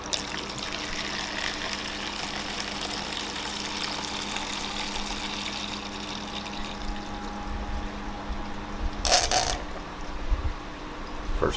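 A pump running in an aquarium tank system, giving a steady hum with water flow and trickling, then a brief clatter near the end as the flow shifts.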